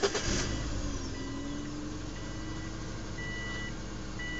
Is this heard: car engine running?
yes